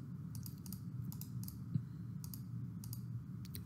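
Mouse clicks on a computer running Predator DNC software for CNC machine programs: a handful of sharp, close, irregularly spaced clicks over a steady low hum, with no talking.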